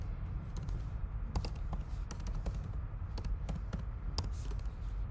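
Fingers type on a computer keyboard in quick, uneven bursts of close, crisp key clicks over a low background hum.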